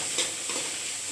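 Pumpkin leaves frying in a pan, a soft, continuous sizzle with light stirring scrapes recurring every half second or so, quiet and close, with no talk.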